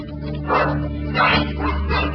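Rescued pit bull fighting dogs bark in repeated rough bursts at a kennel, loud and close over a steady low hum.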